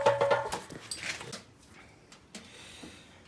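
Dogs moving and making small whimpering and snuffling noises at close range, with a few scuffs and knocks, loudest at the start and fading into quieter rustling.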